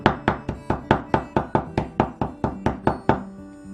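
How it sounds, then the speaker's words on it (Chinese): A cleaver chops smashed fresh ginger on a cutting board in about fifteen crisp, evenly spaced strokes, loud and close, with a brief settling tail at the end. "把拍烂的生姜我们再给它剁2下"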